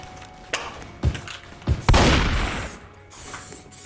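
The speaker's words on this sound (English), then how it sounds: "Let's spray a touch more of that cobalt." Several sharp clicks and rattles lead into a hissing burst of cobalt spray paint from a can that lasts about a second, then fades to quieter background noise.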